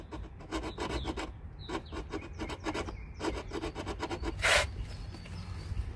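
Rapid rasping strokes of a small file or little hacksaw cutting inside a cramped RV during a drain repair, steady back-and-forth scraping close up, with one brief sharp hiss near the end.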